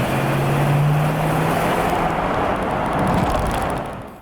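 Mercedes ML430 V8 engine idling and revving steadily, a loud continuous rumble close by with a low drone throughout and a slight swell near the end, no voices.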